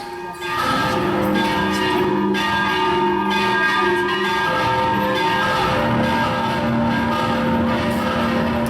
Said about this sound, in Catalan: es va sentir un gegantí repic de campanes